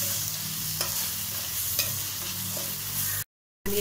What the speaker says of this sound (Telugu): ఆనియన్ కొంచెం ఫ్రై అయిపోయింది